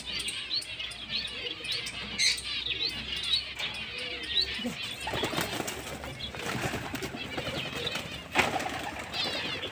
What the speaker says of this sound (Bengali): তো বন্ধুরা পায়রাগুলো এই যে ছেড়ে দিয়েছি